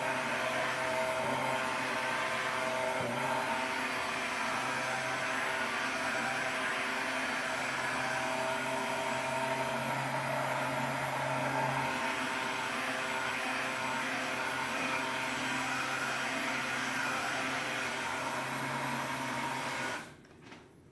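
A noisy electric mixer whirs continuously while blending kefir, a loud, steady motorized drone that holds for about twenty seconds before cutting off abruptly.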